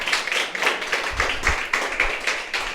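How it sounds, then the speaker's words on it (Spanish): A church congregation claps in praise during an evening service, a rhythmic, fairly close beat of hands striking in unison, with regular pulses and no talking over it. "Alaba al Señor con tus palmas en esta noche."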